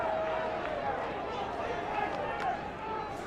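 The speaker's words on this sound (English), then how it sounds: "Yeah, you hear the crowd over here. They are not happy with that call." A stadium crowd at an FCS college football playoff game between Monmouth and Sam Houston boos a referee's call. The crowd roar is loud and dense throughout, with commentators talking over it.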